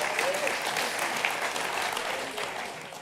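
A conference audience bursts into sustained, dense clapping that fills the whole moment and then tapers slightly toward the end, with no clear voice on top.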